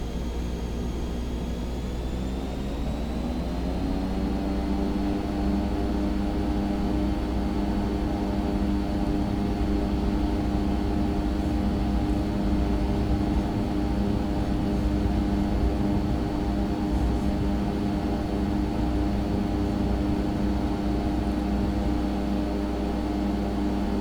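Epic E1000 single-engine turboprop at full throttle in the X-Plane 11 flight simulator, a steady loud roaring drone whose pitch climbs over the first few seconds and then holds constant, with no talking.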